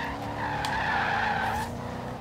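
Audi RS4 tyres squealing in a sustained skid while drifting in the racing game Forza Horizon 3, a loud continuous screech over steady engine noise with no talking.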